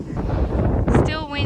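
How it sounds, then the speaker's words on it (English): Strong wind buffets the microphone on a cycle route from Edinburgh to Glasgow, a loud continuous roar with gusts throughout. "it is very windy"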